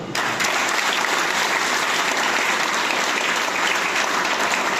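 Audience applause at a Vestige business meeting in Nellore, a dense, steady burst of many hands clapping that starts suddenly and holds loud and even throughout, with no voices over it.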